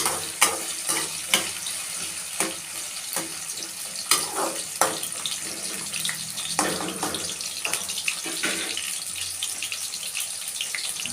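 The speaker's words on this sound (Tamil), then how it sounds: "கழுவி தண்ணி ட்ரை பண்ணிவிட்டு போட்டு தான் வதக்கிட்டுருக்கேன்." Ridge gourd peel fries in a pan with garlic and ginger, giving a steady close sizzle broken by repeated scraping stirs and clatter. No one speaks.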